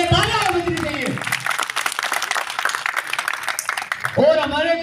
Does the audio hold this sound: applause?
yes